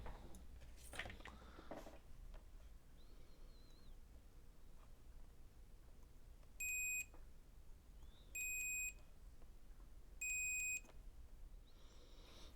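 A multimeter continuity beeper testing traces on a circuit board: three short, clear electronic beeps at even spacing, heard close against a quiet room.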